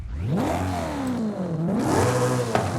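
A BMW M3 GTR revs hard in Forza Horizon 5, fitted with a new exhaust, its engine note climbing, dipping and rising again in steady sweeps, loud and close with no talk over it.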